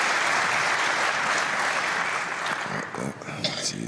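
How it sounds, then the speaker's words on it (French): Spectators at a petanque match between Bonetto and Rizzi applaud in a dense, sustained burst, with voices audible beneath it as the clapping thins toward the end. "Si les spectateurs applaudissent à chaque fois qu'il y en a"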